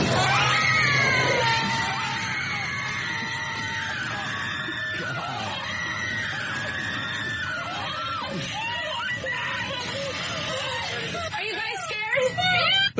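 A woman screams and whimpers in a movie trailer, high wavering cries running continuously over a dense, loud backdrop of effects and voices.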